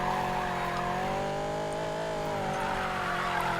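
A Corvette Z06 drifts in Need for Speed Payback, with a sustained, slightly wavering engine drone and tire skid noise running continuously and fairly loud, with no talking.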